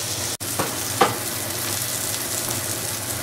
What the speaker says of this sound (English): Just checking on the asparagus, giving a little turnover.